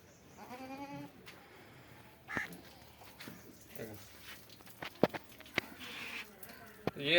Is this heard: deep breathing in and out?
no